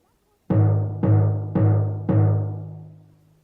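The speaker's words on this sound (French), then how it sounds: "La grosse caisse" Four loud, evenly spaced bass drum strikes, each booming hit ringing out and decaying into the next, the last fading away slowly, with no voices.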